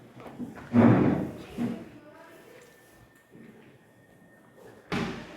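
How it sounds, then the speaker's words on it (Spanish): A door slams shut with a loud thud near the start, and a second, similar bang comes near the end, with a person talking between them. "Para cerrar la puerta."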